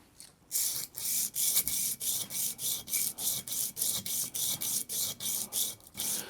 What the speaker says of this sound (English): So we're going to go back to our sanding block and sand the bottom of the sight.